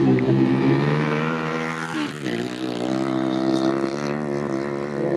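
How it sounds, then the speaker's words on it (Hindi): Motorcycle engines revving continuously at a race during a desert fair (mela), a loud harmonic drone that dips briefly and then rises again, close and sustained with no talk. "मोटरसाइकिलनि जी रेस लॻल आहे"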